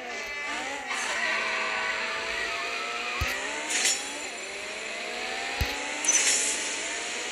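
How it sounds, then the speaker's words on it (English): A race car with a transmission built for launching is held at maximum revs, its engine note rising in steady harmonics and climbing in pitch over several seconds, loud and close, with brief sharp transients breaking through. "Here we're gonna go for a max rev."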